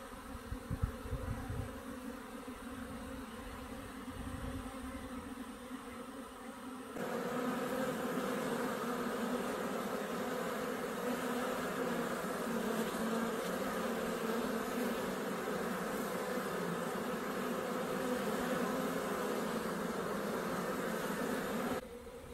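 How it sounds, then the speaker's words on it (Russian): Honey bees buzzing continuously during their spring cleansing flight at an apiary in April, a dense, steady hum of many insects close by, swelling slightly louder partway through. "на всей пасеке стоит радостный шум"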